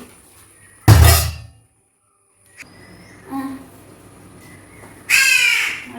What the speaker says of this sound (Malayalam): കാക്കയാണ് ഇവൻ്റെ സൈക്കിളൊക്കെ എറിയിരുന്ന് കാ കാന്ന് കരച്ചില്ല